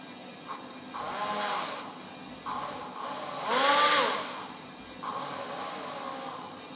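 A small electric motor wired in series with a multimeter runs with a steady whirring hum that swells louder in a few surges, near and alone.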